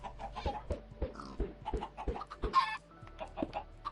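Chickens cluck repeatedly in a Minecraft game, a steady run of short, close clucks with a brief squawk midway and no talk over them.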